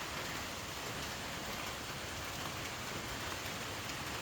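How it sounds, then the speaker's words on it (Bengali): Rain falls steadily in an even, broadband hiss after a night of rain, constant and fairly close, with no voices or other distinct sounds. "সারা রাত বৃষ্টি।"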